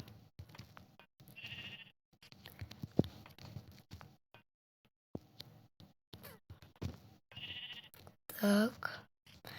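Sheep bleat in Minecraft, a couple of brief game bleats heard near the end among clicks and intermittent talk.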